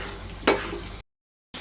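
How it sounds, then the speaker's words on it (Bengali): Arum roots (mukhi) are stirred into a frying spice masala: a brief sizzle with one clear stirring scrape, then the sound cuts out abruptly before resuming briefly. "তো এখানে আমি মুখিগুলো দিয়ে দিব। মশলার সাথে মিক্স করে দিব।"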